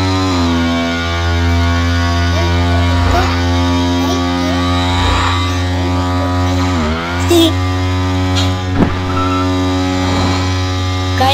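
A Bajaj Pulsar motorcycle engine drones loudly and steadily, with brief throttle blips and revs near the end and faint voices underneath.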